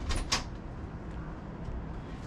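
An RV bathroom door near a slide-out pulled open, a brief pair of knocks and a slide at the start, followed by quiet interior room tone.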